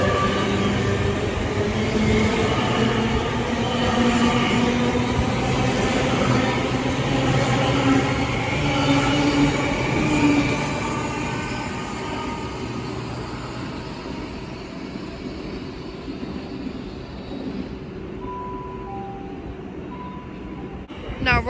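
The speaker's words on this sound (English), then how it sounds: "Also now departing is the 11:46 Great Western Railway service from Swansea to London" A Great Western Railway Swansea to London Paddington service pulls out of Reading station, a loud, sustained engine drone and rumble that slowly fades, with a brief tone near the end.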